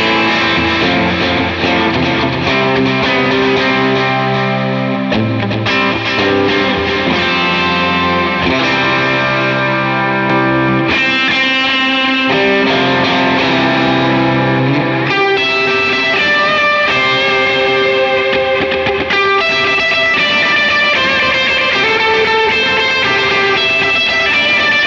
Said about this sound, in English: And now combine that with delay.